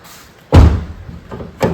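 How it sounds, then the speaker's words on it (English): A Toyota Corolla car door shuts with one loud, solid slam followed by a lighter knock of the mechanism a moment later. "So if I close the door,"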